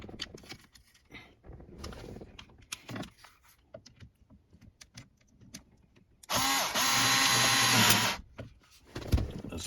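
A power driver runs in one loud sustained burst of about two seconds while screws go into the automatic shifter cover of a 7th-generation Nissan Maxima, surrounded by quieter clicks and handling noises.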